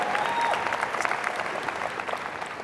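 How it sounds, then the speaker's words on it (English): Code-a-thon participants get a round of applause from the audience at an opening-remarks event, a brisk, even wash of many clapping hands throughout, with a faint whistle-like tone near the start. "you can give yourselves a round of applause"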